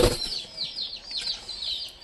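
Pigeons flap their wings as they fly down from above, a series of quick rhythmic flutters close by, repeating several times over about two seconds with a soft thump at the start.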